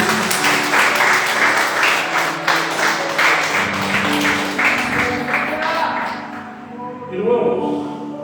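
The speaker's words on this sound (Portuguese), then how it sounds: "dar um aplauso ao Senhor" Congregation applauding in a church, a loud, dense round of clapping held steady for several seconds, with music or voices beneath it and a few scattered claps trailing as it fades at the end.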